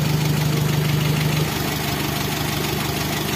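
A Daihatsu Gran Max engine with a stalling fault idles loudly and close, its steady rumble and pulsing throb sagging audibly about halfway through as the revs fall and a faint whine fades out.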